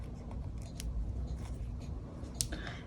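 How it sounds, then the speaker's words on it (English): Scissors snip yarn loose from a crocheted granny stitch skirt, a few soft close cuts against a quiet room background. "and now you can cut it off"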